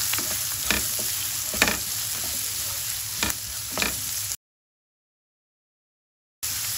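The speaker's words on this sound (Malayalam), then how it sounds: "ഈ എണ്ണയിൽ തന്നെ നമുക്ക് ഒരു മീഡിയം സൈസ് സവാള ചെറുതായിട്ട് അരിഞ്ഞതാണ് നമുക്ക് ഇട്ട് കൊടുക്കാം ഇത് നമുക്ക് നന്നായിട്ടൊന്ന് മൂപ്പിച്ചെടുക്കണം" Finely chopped medium onion sautéing in oil for a Kerala fish curry, with a steady close sizzle, a few sharp clicks from stirring, then a two-second silence before the frying resumes.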